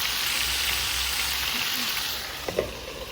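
A steady, loud sizzle of food frying in a hot pan, with a couple of brief clinks near the end.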